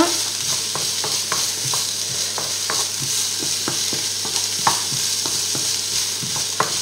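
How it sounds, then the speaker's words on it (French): Bolognese sauce for spaghetti is stirred in a pan, with a loud, steady sizzle and regular scraping strokes of a utensil repeating about every half second, and no voices. "Ensuite, on remue bien pendant 5 minutes."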